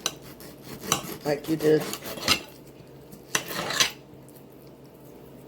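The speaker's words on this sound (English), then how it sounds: "And you just cut it into the strips." A knife slicing chuck roast into strips, with scraping and tapping strokes against a board and bowl in uneven bursts, fairly close, and a brief spoken remark partway through.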